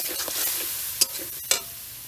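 Garlic, onion, cumin, ginger and chili paste sautéing in a pan, a soft steady sizzle with two sharp spatula knocks against the pan close together, nearby and wordless.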